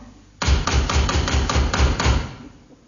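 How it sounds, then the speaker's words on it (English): Someone raps on a door in a quick series of about seven firm, close knocks, then the sound fades out. "Sounds like her knock."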